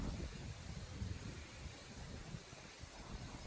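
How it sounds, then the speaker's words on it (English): Wind gusts buffet the microphone outdoors in a steady, faint, broadband rumble that rises and falls slightly, with no other distinct sounds. "All right, it's pretty windy."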